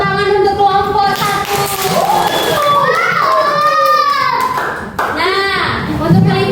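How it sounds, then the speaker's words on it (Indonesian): Schoolchildren clap for a group during a classroom maths lesson: close, lively applause mixed with excited children's voices and chatter throughout. "Oke, tepuk tangan untuk kelompok 1."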